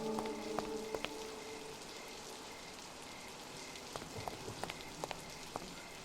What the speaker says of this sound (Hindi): एकदम घमासान बारिश हो रहा है।